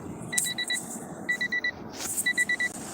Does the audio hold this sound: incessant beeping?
yes